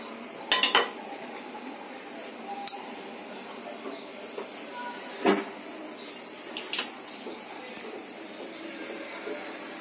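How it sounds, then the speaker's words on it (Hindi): A metal kadhai set onto a gas stove in a home kitchen, heard as a few scattered light clinks and clanks of metal on the grate, faint and spaced apart against a quiet background. "अब इसको हम कढ़ाई रख देते हैं।"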